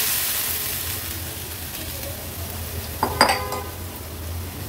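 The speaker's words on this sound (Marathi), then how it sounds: "आता आपण शिजवलेली ही मुगाची डाळ व्यवस्थित मिक्स करून फोडणीला घालूया" Cooked moong dal is tipped into a hot tempering in a pan and mixed, giving a soft background sizzle, then a short burst of metal clinks and scraping from a spoon against the pan, without any talking.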